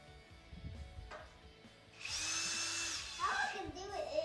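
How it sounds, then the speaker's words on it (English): Handheld electric drill whirring into wood outdoors: after a quiet stretch with faint background noise, the motor spins up to a steady high whine for about a second, then wavers and bogs under load, with a voice briefly heard. "All right, go drill away."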